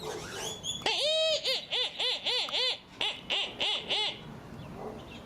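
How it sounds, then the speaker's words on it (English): Grackles call outdoors in a loud, close series of about ten rising and falling whistled notes with a rhythmic, creaky quality, following a few sharper squeaks at the start; no one speaks. "And the grackles are here too."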